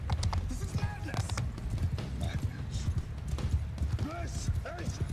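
Horses gallop in a busy video game battle with horse archers, steady clip-clop hoofbeats running throughout amid a dense mix of shouts and calls, with whinny-like tones rising near the end.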